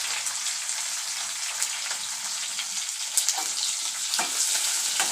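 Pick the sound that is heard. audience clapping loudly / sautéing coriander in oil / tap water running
sautéing coriander in oil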